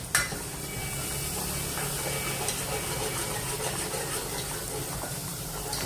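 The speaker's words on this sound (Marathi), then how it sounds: "आणि आपलं फोडणी देत आहे मम्मी" Spices sizzle in hot oil as the tempering for a black-masala chicken curry is made, a steady close crackle with faint stirring and no voices.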